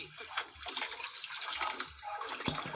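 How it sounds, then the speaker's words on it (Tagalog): Fairly strong sea waves on the Cavite coast during a fishing trip: continuous rushing, splashing water, close and steady, with a bit of faint talk in the background. "Medyo malakas pa rin yung alon sa ating lugar mga idol."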